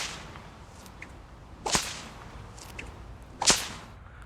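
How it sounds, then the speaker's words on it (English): Two sharp cattleman's whip cracks, each a loud snapping report about two seconds apart, preceded by soft swishes of the whip being swung, with no talking. "and I'll crack it and put it back down."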